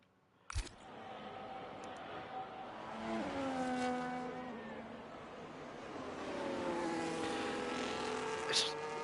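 Race cars in a video game at the Monza circuit rise and fall in pitch as their engines whine past, several overlapping, with a sharp click near the start and soft talk underneath.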